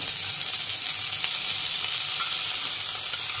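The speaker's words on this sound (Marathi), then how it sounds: "आता तूप हलकसं गरम झालं की त्यामध्ये हे तांदूळ टाकूया।" Rice sizzling and frying in warm ghee in a kadhai, a steady close hiss with faint stirring scrapes, no voices.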